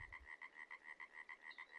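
Frogs croak in a steady, rapid rhythmic chorus of about a dozen regular pulses in a Farming Simulator 22 landscape, heard faintly and alone.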